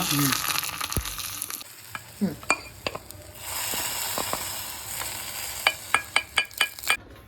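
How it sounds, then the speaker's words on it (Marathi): Chopped onion tempering sizzles loudly in hot oil for a fish curry, with sharp clinks of a spoon against the pan and a burst of rapid taps toward the end. "आता वरून कांद्याची फोडणी देतोय."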